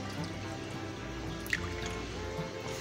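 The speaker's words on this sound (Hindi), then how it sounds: "ये इसमें सिरका शामिल करें।" Vinegar trickles and drips steadily into a bowl of beef liver, a soft continuous pour with faint kitchen background noise and no talking.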